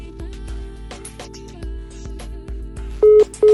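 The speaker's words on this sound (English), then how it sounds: "He goes on to inspect the hotel's bathroom, only to hear the phone ring." A hotel room phone in the iPhone video game 1112 rings twice near the end, two loud electronic tone bursts over a humming, clattering game soundtrack.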